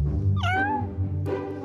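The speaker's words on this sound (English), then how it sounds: "Where the hell did all these cats come from?" A cat gives a loud, close meow with a rising-then-falling pitch, followed by a second, shorter meow.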